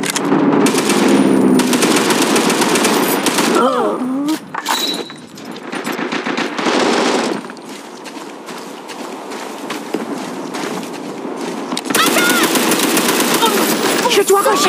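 Bursts from an MG30 machine gun in the World War Heroes video game: loud, rapid automatic fire in several long runs separated by brief pauses, with scattered clatter and footstep-like noises between bursts.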